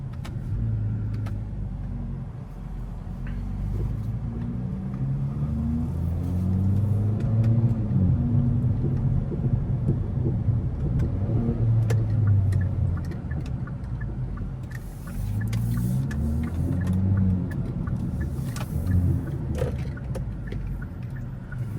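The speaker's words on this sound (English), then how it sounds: "we're gonna put the car in drive" A Kia Forte GT being driven with an automatic transmission shifted manually, its engine humming and rising in pitch as it accelerates through gears, a steady interior rumble with no talk.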